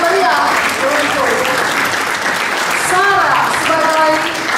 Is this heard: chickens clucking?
no